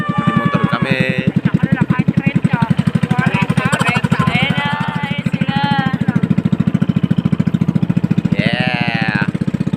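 A small motorboat engine chugs steadily and loudly throughout while riding through floodwater, its rapid regular putter never letting up as people talk and call out over it.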